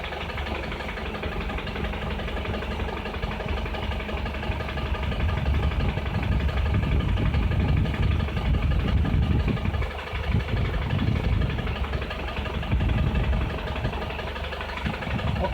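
A Toyota Land Cruiser Prado diesel engine idles roughly with a lumpy, uneven beat from a misfire, a steady close rumble with a dip in the middle.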